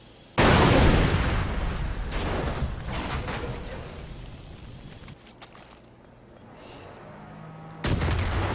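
An explosion in the Far Cry video game bursts loudly and suddenly, then rumbles and fades over several seconds, with smaller pops and debris crackles and a second sharp blast near the end.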